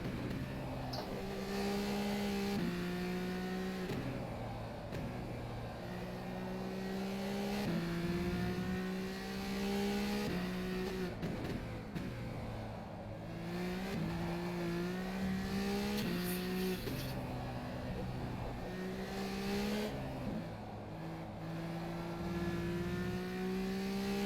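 A race car engine in rFactor 2 on the Hungary circuit revs loud and continuous, climbing through gears with repeated upshifts and downshifts, and brief tire noise appears in places.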